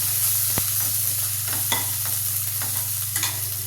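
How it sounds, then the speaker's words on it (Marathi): Ginger paste, coriander, green chilli and curry leaves frying in oil for a kadhi base, a steady close sizzle broken by a few sharp clicks and scrapes of stirring. "त्यानंतर अद्रकाची पेस्ट, कोथिंबीर, हिरवी मिरची, कढीपत्ता हे सगळं फ्राय करून घ्यायचं छान."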